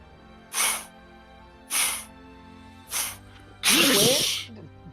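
A voice imitates a thrumming sound in four breathy bursts, three short and evenly spaced, then a longer, rougher one, with a low hum underneath.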